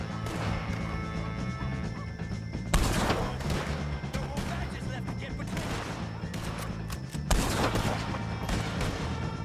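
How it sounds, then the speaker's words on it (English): Gunfire in Red Dead Redemption 2 during a shootout with O'Driscoll gang members: loud, dense volleys crackling continuously under music-like game audio, with two sharp, heavier blasts standing out. "If you can hear me, shoot some of these O'Driscolls!"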